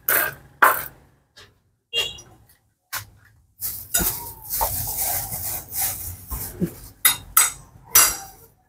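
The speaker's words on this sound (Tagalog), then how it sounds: "Pinuputulan, wala tayong cutter, taga-taga lang." A bolo hacks at wood in place of a cutter at a relocation site, giving sharp, irregular chopping knocks spaced apart and then coming in a denser run of impacts, close and fairly loud, with no speech.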